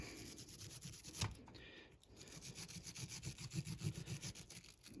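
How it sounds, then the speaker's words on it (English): Wire brush scrubbing a motorcycle ignition switch part during a teardown, a steady close rhythmic scratching of repeated quick strokes with a brief pause midway, no talking. "Wire brush the piss right out of it."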